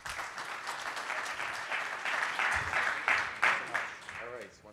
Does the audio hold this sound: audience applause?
yes